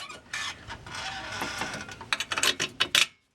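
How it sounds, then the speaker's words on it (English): A car jack works under a 2016 Dodge Challenger Hellcat during a lowering-spring install, giving off a run of ratcheting clicks and mechanical clatter that speeds up into sharp taps before abruptly stopping, with no talking. "Jack it up a tiny bit."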